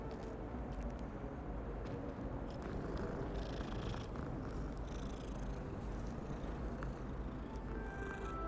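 A cat purrs steadily in the video game Hogwarts Legacy, a low continuous rumble held close and even throughout with no talking over it.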